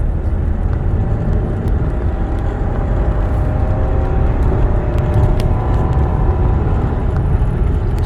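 A 2003 Mercedes-Benz E500 W211 V8 sedan pulls hard in third gear from inside the cabin, a steady, loud, deep engine roar with a rising drone and constant road rumble, no speech.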